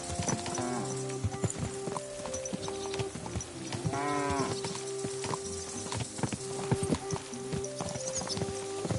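Horse hooves clip-clop steadily at a walking pace in Kingdom Come Deliverance 2, close and fairly loud, with the animal's snorts and faint game ambience around them and a brief murmur of voices.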